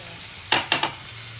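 Rava and cornflour coated pomfret fish frying in a pan, with a steady sizzle under two or three sharp scraping stirs of a spatula, close and fairly loud.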